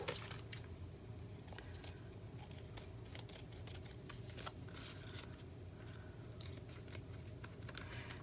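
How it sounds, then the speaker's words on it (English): Repeated light metallic snips and clicks of rusty scissors being handled, close by and fairly quiet, over a low steady background hum. "Like my rusty scissors."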